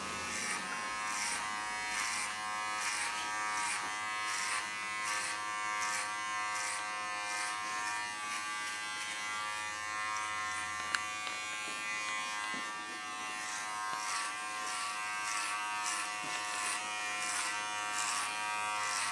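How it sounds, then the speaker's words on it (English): Electric hair clippers fitted with a number 2 guard cut hair during a skin fade, giving a steady close buzz with rhythmic pulses as the blade makes repeated passes, alone without talk. "each pass of the clipper, I'm only using half the teeth to remove as I go around"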